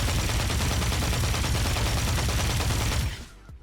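Rapid sustained automatic fire from a Dark Matter weapon in Call of Duty MW3, a dense loud continuous burst for about three seconds that cuts off abruptly, leaving a brief quiet tail.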